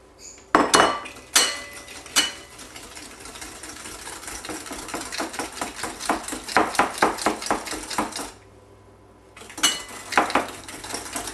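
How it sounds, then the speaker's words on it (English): Egg and sugar whisked together in a bowl for fruit tart, rapid rhythmic clinking of metal against the bowl, briefly pausing before resuming. "mix up the egg, and then mix in the sugar, with the egg"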